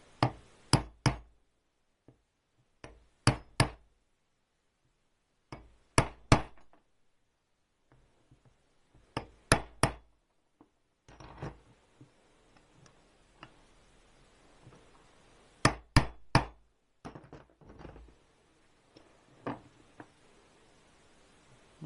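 Sharp metallic taps on an engine part being driven into a warm Triumph T120R crankcase during a bottom-end rebuild, in several close bursts of two to four quick knocks separated by pauses, with faint handling noise between.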